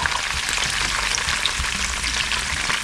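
Julienned onions sizzle steadily in garlic-infused olive oil for a Spanish chicken stew, a constant close hiss with faint stirring underneath and no talking.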